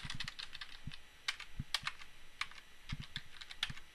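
Router command being typed on a computer keyboard, quick uneven bursts of close, crisp key clicks with a few heavier thumps, no voice.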